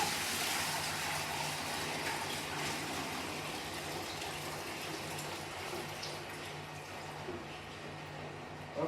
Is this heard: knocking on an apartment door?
no